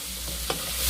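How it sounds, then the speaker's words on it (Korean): Carrot strips sizzle and hiss in a hot pan for bamboo shoot japchae, with a brief scrape of stirring midway; close, continuous and free of talk. "당근은 계속 볶아지기 때문에 지금부터 넣으시면 충분하게 익을 것 같습니다."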